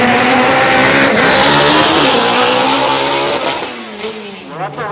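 A Honda EG front-wheel-drive drag racing car makes a run at a drag strip, its engine roaring loudly at high revs as it pulls away, the tone shifting and fading toward the end of the pass.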